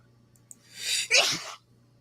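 A single sneeze from one person, a sharp breathy burst followed by a brief trailing exhale, fairly close and loud against a quiet background hum.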